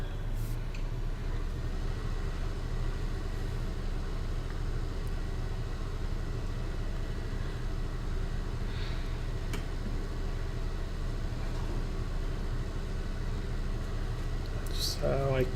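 Tractor engines run steadily in Farming Simulator 19 while both machines work in planting mode with seed planters, a continuous low engine drone held at even loudness throughout, with a brief brighter noise near the end.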